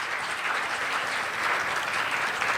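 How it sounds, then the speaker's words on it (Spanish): Sustained audience applause at an education conference welcoming a guest speaker onto the stage, a steady wash of many hands clapping at even loudness throughout, with no voices over it. "para quien solicito un fuerte aplauso"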